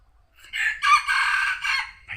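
A rooster crows once nearby, a loud, drawn-out call standing alone against a quiet background.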